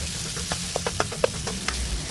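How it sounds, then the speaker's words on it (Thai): Minced fish is stir-fried with a spatula for a spicy herb stir-fry, with a soft continuous sizzle broken by a series of sharp scraping taps from the spatula close by. "ใส่เนื้อปลาสับลงไป จากนั้นก็ผัดต่อได้เลยค่ะ ผัดไปเรื่อยๆ จนกว่าเนื้อปลาจะสุกค่ะ"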